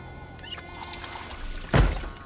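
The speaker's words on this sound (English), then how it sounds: "We'll just fill the red mug with water." Water poured into a red mug in the video game Project Zomboid, a brief splash and pour with a soft thunk near the end, alone without talk.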